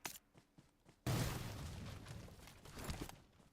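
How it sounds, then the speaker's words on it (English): A vehicle blows up in a PUBG-style battle royale game, a sudden loud broadband boom that erupts after a second of quieter clicks and keeps roaring and crackling for about two seconds before easing off. "that vehicle explosion is going up"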